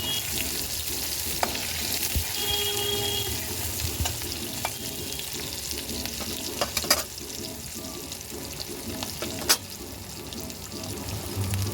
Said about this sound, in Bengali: দেবো পেঁয়াজ কুচনো, একটু ভেজে নেবো